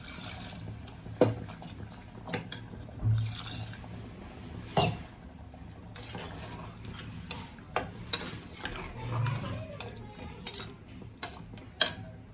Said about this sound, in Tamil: தண்ணி விட்டுக்கலாம்